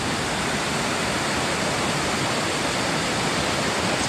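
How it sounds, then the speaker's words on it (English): A small waterfall on a river beside Locks Falls Road pours in a constant, even rush of broadband water noise, close and unbroken throughout. "this is like a little waterfall right here"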